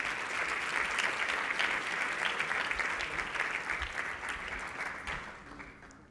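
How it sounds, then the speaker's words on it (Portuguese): At a payments congress, an audience applauds its guests with a sustained, dense clapping that fills the room, holds steady and loud for several seconds, then thins and fades toward the end, with no voices over it. "Peço uma salva de palmas para os nossos convidados."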